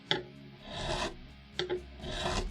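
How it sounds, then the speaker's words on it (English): A crowning file rasps over the frets of a cheap guitar in a few short, dry strokes, close and quiet, with brief pauses between them. "you just kind of use your crowning file and shape them"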